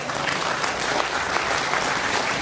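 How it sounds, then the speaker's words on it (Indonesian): A workshop audience at an entrepreneurship training session breaks into dense, continuous applause, loud and sustained throughout with no pauses. "Ayo tepuk tangan dong."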